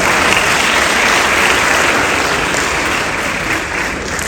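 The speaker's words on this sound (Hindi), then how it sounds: "भरपूर तालियां।" Dense, sustained applause from an audience at a police martyrs' tribute ceremony on Shaheed Day, loud and steady for the whole stretch with no voices over it.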